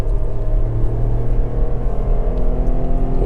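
Ford EcoSport Titanium three-cylinder with automatic transmission blipping the throttle to match revs on a downshift, a close, continuous engine hum with a brief rise in pitch, no talk.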